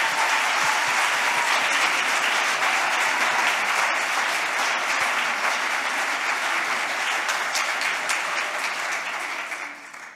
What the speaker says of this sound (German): Das ist mal ein Applaus wert von dieser Stelle.